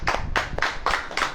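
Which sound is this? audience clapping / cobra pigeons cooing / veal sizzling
audience clapping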